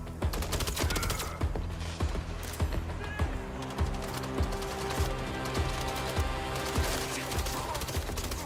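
Gunfire in GTA, a busy fusillade of many sharp shots in irregular bursts, some near and some farther off, layered over steady background game noise.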